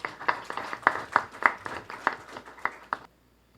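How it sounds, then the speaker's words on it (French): Audience at an anticorruption forum claps for a speaker, with a short run of rhythmic, fairly close handclaps that stops abruptly, leaving near silence. "Vous devez l'applaudir, c'est tout."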